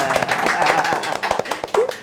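A few sharp hand claps ring out close by in a podcast studio, brief irregular slaps mixed in with ongoing talk.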